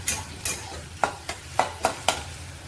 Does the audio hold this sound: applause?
no